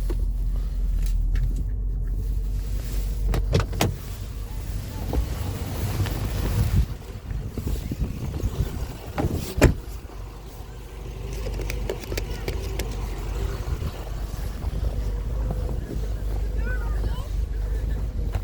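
Interior of a Mercedes-Benz W126 driving on a snowy outing, a steady low engine and road rumble with wind noise, scattered clicks and knocks, and a brief thump partway through.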